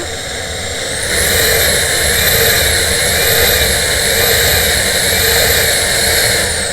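A steady, loud high-pitched motor whine from an LG CordZero A9S cordless vacuum cleaner with a blockage, with a hum that rises and falls in slow waves, running continuously with no talking.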